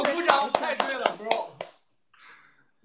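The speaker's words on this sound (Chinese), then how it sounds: "我鼓掌" A handful of quick hand claps punctuate lively speech, sharp slaps landing among the talking during a group livestream gathering, fairly close and followed by a brief quiet.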